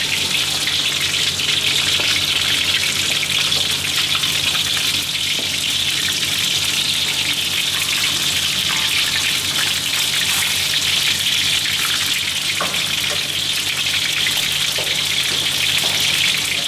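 Fish deep frying in a wok until crispy brown, a loud, dense, continuous bubbling sizzle like rushing rain that holds steady throughout with no talking.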